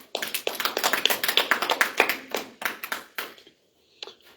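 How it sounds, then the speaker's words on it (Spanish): Clapping from a small group in a church gathering, a run of distinct, fairly rhythmic claps close by that thin out and stop after about three and a half seconds, followed by a couple of faint scattered claps. "Aplauso."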